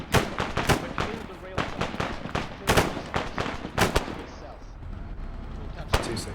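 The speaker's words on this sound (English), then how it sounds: "You're missing the firefight, Ross." Video game firefight gunfire: a steady run of loud, sharp shots in quick succession, easing off briefly before a final crack, with a voice speaking over it.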